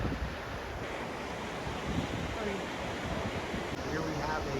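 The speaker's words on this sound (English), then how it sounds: "Here we have a big waterfall, pretty fast." Big, fast waterfall in Greenland seen from a cruise, a continuous broadband roar of rushing water mixed with wind buffeting the microphone, steady and fairly distant with no pauses.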